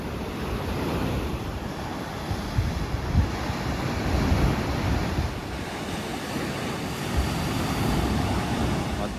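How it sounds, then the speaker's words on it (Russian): Ocean waves surge and wash steadily along the Algarve coast near a Portuguese beach, a continuous broad roar with heavier swells building in the middle, mixed with wind buffeting the microphone. "Волны усиливаются."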